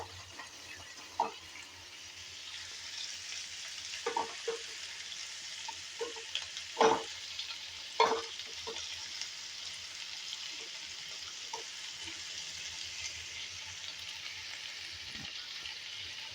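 Capsicum being stirred into onions in a frying pan, with a steady soft sizzle and scattered scraping clicks from the spoon recurring irregularly throughout, no voices present.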